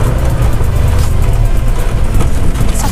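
A TVS King auto rickshaw engine runs close and loud, a rough, throbbing low rumble with slight surges as the accelerator is worked.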